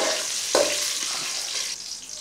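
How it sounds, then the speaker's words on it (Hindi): Cumin seeds and bay leaves sizzling and crackling steadily in hot oil in a pan, a loud, continuous frying hiss with a brief stir or clatter near the start, no voices. "ऑयल गर्म हो गया, अब हम 1 चम्मच जीरा डालेंगे, 2 के करीब तेज़पत्ता डालेंगे।"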